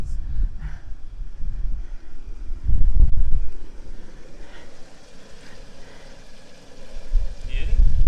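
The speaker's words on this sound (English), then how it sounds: "because it's raining and miserable and windy" Wind gusting outdoors on a rainy, miserable day at a farm, a constant rough rumble and buffeting against the microphone that swells and eases, with people talking over it.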